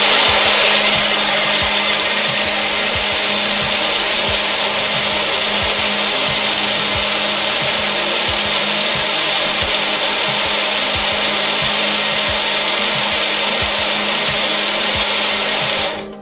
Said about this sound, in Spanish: Mientras tanto, procederé y seguiré licuando.